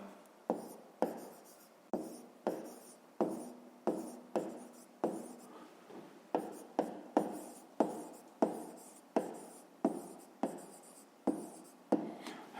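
A pen writes the answer to a fifth-grade maths exercise on paper, giving a quick run of soft, close scratchy strokes in a steady rhythm, alone and quiet.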